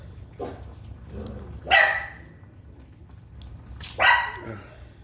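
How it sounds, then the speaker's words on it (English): Dogs bark in the background indoors, two separated bursts of sharp barking with softer yips between, fairly distant and moderate in loudness. "And of course the dogs can't shut up."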